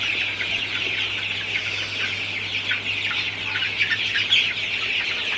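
A flock of Sonali super hybrid chickens on a farm in hot, humid weather clucks and chatters continuously, a dense close-up din of many birds with a low steady hum beneath and no talking.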